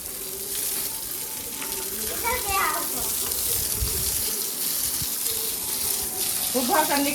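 Water pours and splashes steadily onto bricks for the whole stretch, a continuous wet gush like a running tap, with people talking over it at times.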